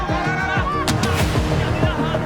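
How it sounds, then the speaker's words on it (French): A cannon being fired during an island competition game, heavy booming thumps that repeat amid a busy, noisy outdoor scene with voices in the background. "Les 10 premiers qui trouvent un boulet peuvent tirer le canon et partir pour l'île."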